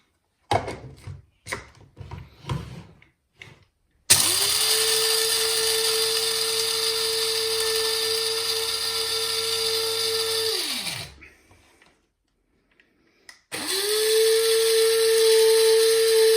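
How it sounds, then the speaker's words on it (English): Starbucks French Roast coffee beans are ground in an electric coffee grinder: a loud, steady whine runs for about seven seconds and winds down, then starts again after a short pause. Faint handling clicks come before it. "So let's give this a quick grind."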